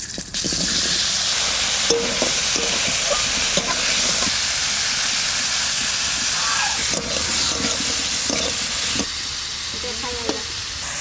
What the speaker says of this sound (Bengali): আলু কটাও ভেজে নেব